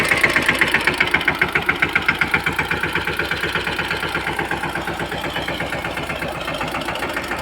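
A farm tractor's engine idling up close, a loud, steady rapid chugging pulse with a rattling, knocking edge that holds an even rhythm throughout, no voices over it.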